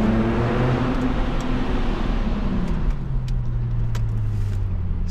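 A car fitted with a Speed Culture custom exhaust driving in sport mode, its engine droning loudly with a rising and falling tone as it shifts gears, over road and wind noise from open windows.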